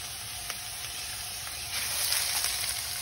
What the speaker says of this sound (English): now we are going to saute our next set of vegetables